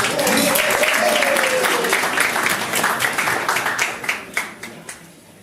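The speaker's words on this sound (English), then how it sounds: "I'll give that round of applause for Lydia." A round of applause at a formal farewell tribute for an ambassador swells briefly under a fading spoken voice, then thins into scattered, individual claps that trail off toward the end.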